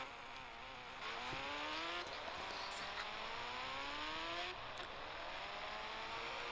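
Engine of a fire-themed motorbike in the Indian Bike Game 3D mobile game, a steady synthetic drone with rising revs that swell louder after the first second and run on continuously without talk.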